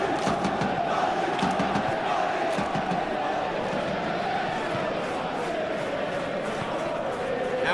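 A stadium crowd in the PES 21 football video game gives a steady, loud roar that holds for the whole stretch, with no distinct peaks of cheering, and a commentator's voice is faintly present.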